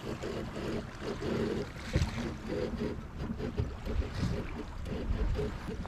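A sailboat moves under spinnaker at about 4 knots in light wind, with soft, continuous water rushing and sloshing against the hull, occasional low thumps, and faint background wind, all fairly quiet and without talk.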